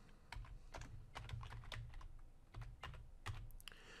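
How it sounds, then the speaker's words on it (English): Fingers type on a computer keyboard at a Windows Server Core sign-in, a quick irregular run of crisp close key clicks with brief pauses, no talk over it. "I'm going to start typing administrator in the username."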